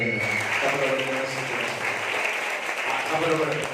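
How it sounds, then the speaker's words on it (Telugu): A church congregation clapping together, a steady, even wash of many hands throughout, with voices audible beneath the applause. "అందరం ఒకసారి చప్పట్లు కొడి"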